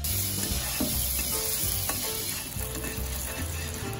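Cooked rice being stir-fried with butter in a pan, giving a continuous close sizzle and frying hiss with soft stirring scrapes throughout, and no one speaking.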